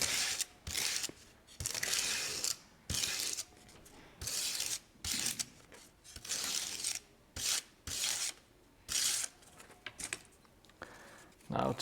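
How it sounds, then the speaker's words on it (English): Wood being roughened by hand with abrasive strokes while building a scratch-built tabletop gaming board, a series of close, loud rasping bursts in an irregular rhythm with short pauses between them. "Now today I actually remembered to roughen up the wood before I started doing stuff with it."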